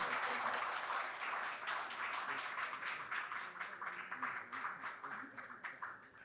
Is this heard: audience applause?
yes